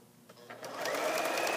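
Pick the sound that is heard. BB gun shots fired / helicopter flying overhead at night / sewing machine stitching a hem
sewing machine stitching a hem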